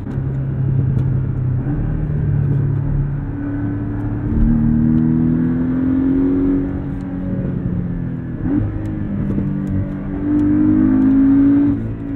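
The engine of a 2017 Porsche 718 Cayman S hums from inside the cabin, rising and falling in pitch as it accelerates through gears, a deep steady drone with surges.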